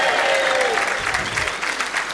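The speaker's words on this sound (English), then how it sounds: "let's have a big round of applause for Matt" A comedy club audience applauds a performer named Matt, a short burst of dense, loud crowd clapping with a few cheers mixed in.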